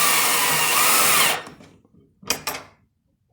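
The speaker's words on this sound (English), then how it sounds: "Attach the box to the stud or joist using 2 3/4 inch screws" A power drill drives 2 3/4 inch screws through an electrical junction box into a wooden stud. One loud, close whir runs for over a second, then stops, followed by two short bursts of the motor.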